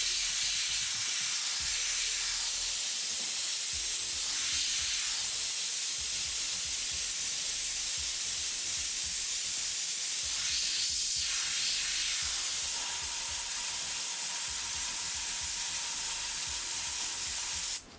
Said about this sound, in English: So we get a nice wide spray as well as up close to find a couple of these little glares.